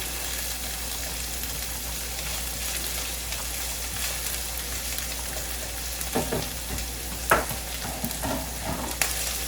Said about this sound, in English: I'm going to put in my garlic and my shallots. I'm going to cook those till just fragrant.